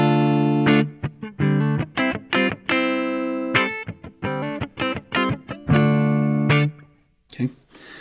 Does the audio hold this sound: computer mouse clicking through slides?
no